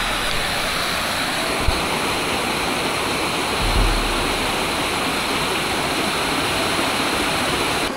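A waterfall in the hills of Boac, Marinduque roars as a constant, dense wash of rushing water, close and loud throughout with no voices.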